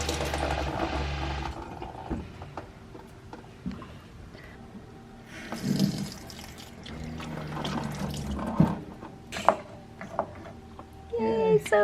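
Water runs from a newly installed galley faucet, sputtering as air is flushed from the line, with clatter and voices speaking over the flow.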